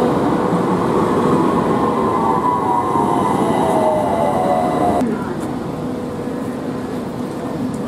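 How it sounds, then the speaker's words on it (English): An Istanbul tram running on its line gives a steady rolling rumble with a rising wheel whine, then a sudden drop to a quieter ride; people talk over it. "Here's our tram to Kabataş."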